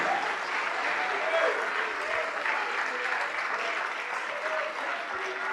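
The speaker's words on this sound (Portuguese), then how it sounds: "Vamos aplaudir mais, igreja, vamos aplaudir mais." A church congregation applauds together during a sermon, steady dense clapping filling the room at even loudness throughout, with faint voices mixed in underneath.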